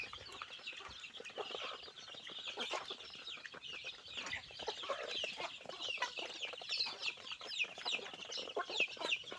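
Chickens clucking steadily with chirping chicks, a busy, continuous farmyard chatter of many birds close by.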